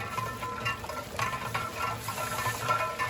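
Onions fry to dark brown in ghee in a large biryani pot, giving off a continuous close sizzle with busy crackling. Occasional stirring scrapes rise over it.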